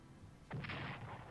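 Artillery fire in a WWII strategy game, Strategic Command, comes in after a short quiet gap as one muffled, rumbling boom with a rolling tail, moderately loud and alone.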